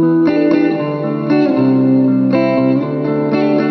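Electric guitar played through Native Instruments Guitar Rig with heavy reverb and a low cut rings out in sustained, chiming chords that change every second or so, loud and close with a long wash of reverb, no voices.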